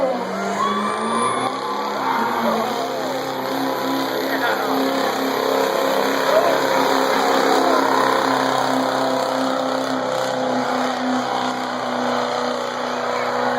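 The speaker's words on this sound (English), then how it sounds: "Takes a little while to get that boost built. With that turbo beginning to whine" A pulling truck at a county fair truck pull revs hard under load, a steady loud engine roar with a rising turbo whine building through the run, while a commentator talks over it.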